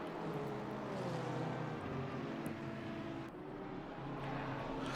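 A racing car engine revs hard at the Nurburgring, a loud, continuous drone with shifting harmonic pitch that holds steady for the whole stretch, dipping briefly near the end before climbing again, with no talking over it.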